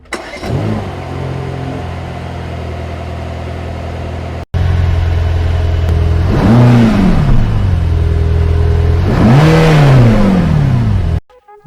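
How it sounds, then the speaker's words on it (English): A Mercedes SLS AMG engine with a petrol particulate filter idles with a low rumble, then revs twice in strong rising-and-falling surges, loud and close, before cutting off abruptly. "in some situations it sounds like an older diesel engine"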